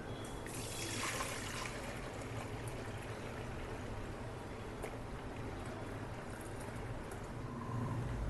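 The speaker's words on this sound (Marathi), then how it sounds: "हे जे वरचं वरचं नुसतं पाणी आहे ते आपण बाजूला काढतो आहे" Quiet, steady trickle of water being poured off the top of soaked semolina for kurdai, a soft continuous dribble with faint background hiss.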